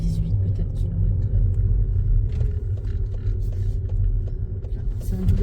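A car rolls slowly at about 18 km/h through a two-way parking lot during a driving lesson, a steady low engine rumble and road noise throughout, with occasional talk over it.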